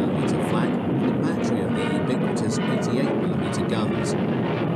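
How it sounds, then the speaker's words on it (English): Wartime film of a 1943 Soviet air attack on a German air and seaplane base in northern Norway: a dense, continuous roar of aircraft engines runs throughout, with someone narrating over it. "a Soviet air attack on a German air and seaplane base in northern Norway in 1943, is met by heavy anti-aircraft fire"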